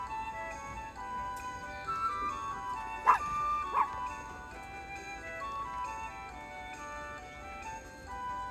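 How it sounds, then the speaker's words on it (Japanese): A small Chihuahua gives a few high, sharp barks and yips outdoors beside a vegetable field, faint and intermittent with one louder pair of barks in the middle, with quiet background noise. "こた、ワンワンしないよ。"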